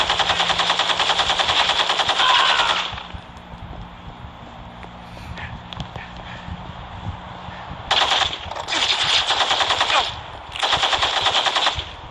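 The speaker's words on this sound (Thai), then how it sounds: "กูยิงไอ้คนนี้" Sustained automatic gunfire rattles loudly in the Gangstar Vegas video game, with a long burst, a quieter stretch of scattered shots and movement, then two more rapid bursts.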